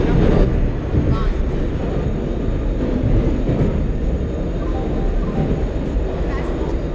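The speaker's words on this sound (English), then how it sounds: "Train number 12655 Passenger Express is scheduled to depart from platform number 1." Passenger express train departing a station platform in the Indian Train Simulator game, a steady low rumble of wheels and engine throughout, loud and continuous, with a public-address announcement voice speaking over it.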